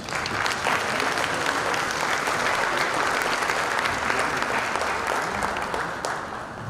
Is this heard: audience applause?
yes